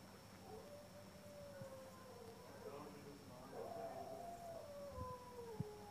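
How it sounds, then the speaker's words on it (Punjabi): A dog howls in a video game, a faint drawn-out wavering wail under steady background hiss, rising and falling twice in the distance. "ਕੁੱਤਾ ਪਤਾ ਨਹੀਂ ਹੁਣ ਚੀਕੀ ਜਾਂਦਾ ਐਵੇਂ"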